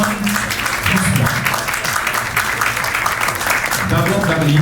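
Crowd applause rolls on continuously at an award ceremony in Port-au-Prince, a dense wash of clapping with voices mixed in.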